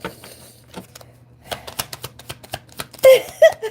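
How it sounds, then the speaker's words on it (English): Tarot cards are shuffled by hand in a run of crisp riffling and tapping bursts that grow louder and busier toward the end, heard close and alone with no talk over them. "And I'm still shuffling and nothing's coming out."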